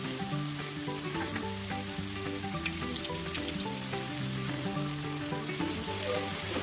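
Potato pieces frying in oil sizzle steadily and loudly up close, a dense continuous crackle with faint stirring underneath and no voices.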